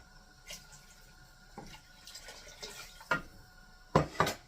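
Water poured from jars into a soup pot for beef and tomato macaroni soup, heard as a few short splashy pours and clinks, the loudest bursts coming near the end.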